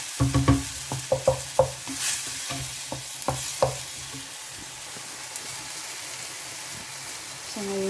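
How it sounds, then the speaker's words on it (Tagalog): Tomato and chili peppers sautéing in a pan for paella, with a steady sizzle and a series of clattering scrapes and knocks from stirring, then quieter continuous frying. "mga 2 minutes na ginisa yung kamatis together with the sili, yung pepper"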